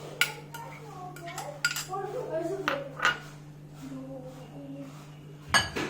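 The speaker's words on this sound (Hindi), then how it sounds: "इसमें मैं ये सब मिक्स कर दूंगी। तो ये कुकुम्बर मैंने मिक्स किया, कैरेट," A spoon clinks and scrapes against a bowl while cucumber and carrot are stirred into curd for beetroot raita, a series of sharp close metallic taps at an uneven pace, with someone talking between them.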